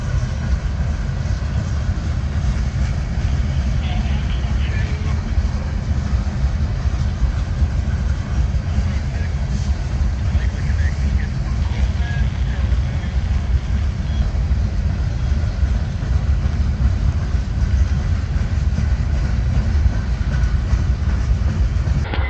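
Local freight train of boxcars and refrigerated cars rolling steadily by in Lakeland, Florida, a loud, unbroken low rumble with faint rhythmic wheel clatter, close and without talk.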